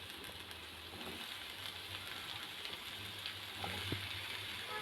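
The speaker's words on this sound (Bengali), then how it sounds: "প্রথমে এখানে আমি পটলগুলিকে লাল লাল করে ভেজে নিচ্ছি।" Pieces of pointed gourd (potol) sizzle in a pan of hot oil, a steady close crackle with occasional small pops and a low hum underneath, no voices.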